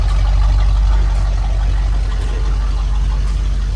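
Engine of a Kia Soul fitted with a new exhaust and replacement mufflers, running steadily with a low, even rumble close by. No voices are heard.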